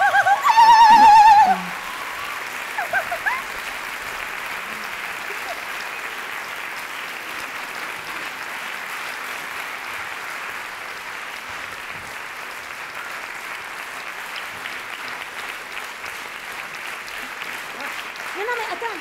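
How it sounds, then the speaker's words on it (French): Sustained theatre applause for an opera singer appearing in a clown's stage show, a dense even roar of many hands clapping that carries on for well over fifteen seconds after a loud voice at the start. "faut pas que ça soit trop long les applaudissements"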